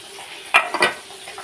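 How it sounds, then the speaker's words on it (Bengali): Fish frying in a pan: a low sizzle under two quick metallic clinks of a utensil against the pan, close and brief. "এবার মাছগুলো ভাজা চলছে"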